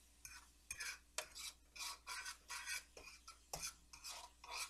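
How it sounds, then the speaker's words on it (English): Onions and garlic sautéing in a pan, faint soft sizzle beneath a steady rhythm of spatula strokes scraping and stirring, quiet and close, no voices. "Okay, so now that we have our onions and garlic sauteing,"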